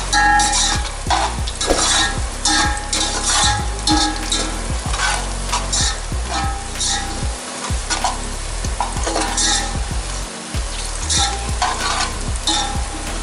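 Mutton masala is stirred and fried with onions in a pan, with a steady close sizzle and repeated scraping spoon strokes against the metal running throughout.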